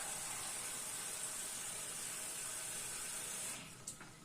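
Water or broth poured onto chicken frying in a pot sets off a loud, steady, close hiss of liquid hitting hot oil, which drops away abruptly near the end, leaving a few faint clinks and quieter bubbling.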